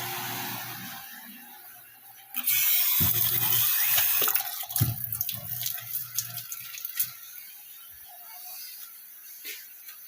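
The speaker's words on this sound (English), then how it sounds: "Now I'm going to go wash the butcher block." Kitchen tap running while a butcher block is washed, quiet at first, then a sudden loud rush of water with splashing and clattering that fades to lighter trickles and drips.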